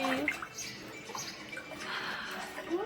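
Barbie dolls being swished and splashed in bath water, with light close splashing and trickling, soft throughout the short span.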